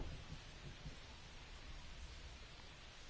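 Heavy rain pours steadily onto an outdoor baseball field during a game, a dense, continuous hiss with low rumbling undertones, loud and unbroken throughout with no talking.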